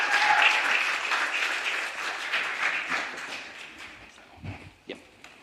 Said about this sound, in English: round of applause for Jules